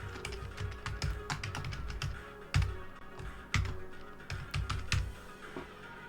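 Rapid computer keyboard typing in irregular bursts of sharp clicks and taps while code is being written, close and fairly loud with short pauses between runs, no speech.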